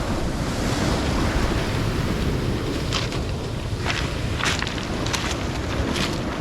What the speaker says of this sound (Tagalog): Dinig na dinig mo yung mga bato sa ilalim,